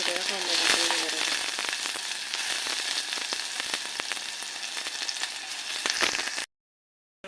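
Finely chopped onion fries in ghee with garlic and ginger, ahead of sprouts for a sprouted-lentil soup. A loud, close sizzle is dotted with sharp crackles and pops, then cuts abruptly to silence near the end.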